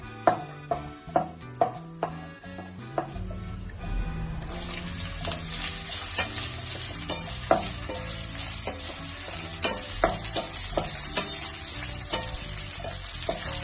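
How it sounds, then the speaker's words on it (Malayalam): Cashews and raisins frying in ghee in a pan: a few sharp taps at first, then a bright, continuous sizzle that swells and holds, with scattered stirring clinks, no voices. "കുറച്ച് അണ്ടിപ്പരിപ്പും കിസ്മിസും നെയ്യിലൊന്ന് വറുത്ത് കോരിയെടുക്കണം"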